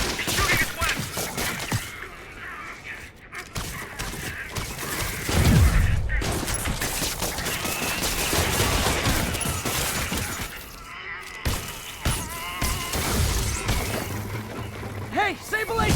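Gunfire rattles in bursts amid crashes and shattering impacts during a combat scene in the Marvel's Spider-Man video game on PS5, loud and dense, with game characters shouting over the action.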